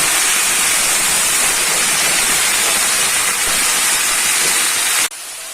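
Pumpkin stalks hiss and sizzle steadily after hitting hot oil with whole cumin seeds and green chillies, a loud, dense frying crackle that runs for about five seconds and then drops off abruptly.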